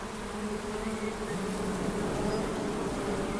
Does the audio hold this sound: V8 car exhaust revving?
no